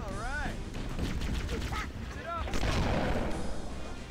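Rapid bursts of gunfire from the Gamergun in a Cursed Halo game session, firing in quick volleys with warbling electronic effects layered over a dense, busy battle mix.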